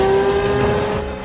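The Lexus LFA's V10 howls at high revs in a loud, dense engine note with a bright, sustained tone, sliding slightly as it revs briefly.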